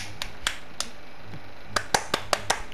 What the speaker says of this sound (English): I'm just clapping my hands together.